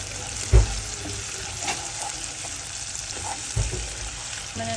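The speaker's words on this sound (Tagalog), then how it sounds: "Yan guys, gisa-gisa lang natin siya" Garlic, onion and chili sauté in a pan with a soft, steady sizzle, broken by a couple of sharp clanks from stirring, with no talking.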